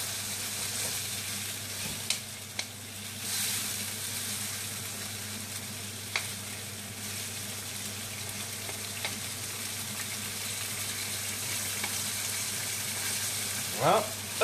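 Courgettes fry in a wok, releasing their water into a steady, close sizzle with occasional stirring clinks and scrapes, one louder rattle near the end.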